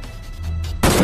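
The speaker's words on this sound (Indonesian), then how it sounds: "terjadi baku tembak antara keduanya" A gunfire exchange in a film: after a low rumbling lead-in, a single loud, sharp burst of gunshot erupts near the end, close and abrupt with no talking.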